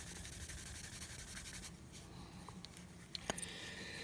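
Steady scrubbing and rubbing on the plastic thruster bells of a 22-inch Space: 1999 Eagle Transporter model, a close, quiet, continuous abrasive rasp with a few small clicks near the end.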